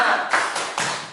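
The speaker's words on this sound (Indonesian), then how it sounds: "Kita bertepuk semangat bersama-sama." A group in a school gathering claps together in a rhythmic pattern, a few sharp hand claps in quick succession, close and fairly loud with no talking over them.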